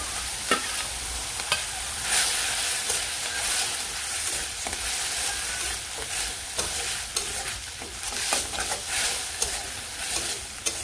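Onion paste with ginger, garlic and green chili sautéing in a pan for prawn malai curry, a steady close sizzle with repeated stirring scrapes and clinks throughout, no talking.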